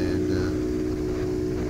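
Icebear Champion CT70 mini bike with a big bore kit, in fourth gear at wide open throttle across a flat lake, producing a loud, steady, sustained engine drone with wind buffeting.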